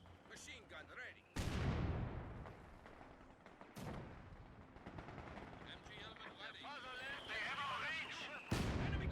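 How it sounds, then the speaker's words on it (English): Mortar shells and machine-gun fire in a World War II real-time strategy battle, with sharp explosive blasts at intervals over rattling gunfire and background battle noise while a commentator talks. "MG getting hit by the mortar here"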